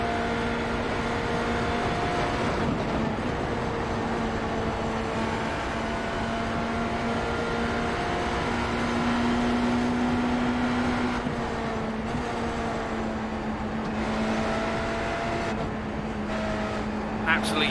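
Onboard engine of a prototype race car in the iRacing sim at Le Mans, droning steadily and rising through the gears on the way to the Porsche curves, loud and continuous.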